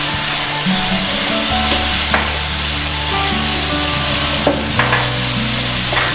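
Soya chunks fry with turmeric and red chili powder, a loud, constant sizzle with occasional stirring scrapes and knocks, set against a steady droning, music-like tone.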